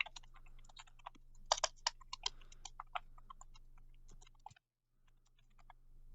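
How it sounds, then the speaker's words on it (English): A computer keyboard clatters with irregular bursts of keystrokes, fairly close and alone, then drops briefly to silence before a faint hum returns. "So let's try typing some text."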